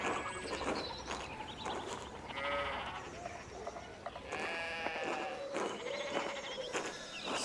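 Sheep in the video game Pentiment bleat repeatedly, several overlapping wavering calls rising and falling at moderate distance over a soft outdoor background.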